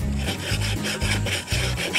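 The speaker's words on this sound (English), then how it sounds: "So I'll just give it a little light rub" Foil rubbed briskly over the rusty lid of a cast iron camp oven, close and loud, in steady back-and-forth rasping strokes, roughly two per second, with no voices.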